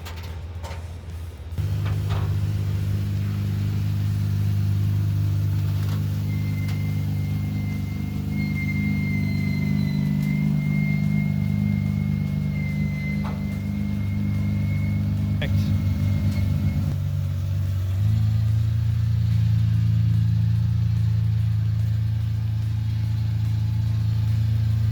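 A Ferrari 5.5-liter V12 starts up and runs at a loud, close, steady idle, its deep rumble shifting pitch slightly partway through; a voice speaks briefly over it.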